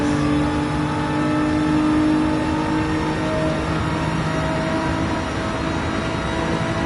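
A Gran Turismo 7 race car engine held at high revs in fifth gear on a track, a steady, loud, sustained drone with a strong tonal whine that barely changes pitch throughout.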